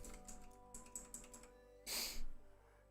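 Light clicking of keys on a Razer Chroma computer keyboard in short bursts, with a brief breathy hiss near the end; fairly quiet and close.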